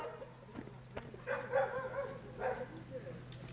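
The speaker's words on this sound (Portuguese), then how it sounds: "Como sempre, um cachorro acompanhando." A dog on a farm in the countryside gives a few quick, moderately distant barks and yips in the morning, with faint background noise and a low steady hum.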